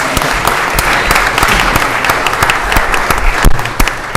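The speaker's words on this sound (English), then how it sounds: "Get your applause." Audience applause at a city council meeting, a loud, continuous wash of clapping from a roomful of people with no talk over it.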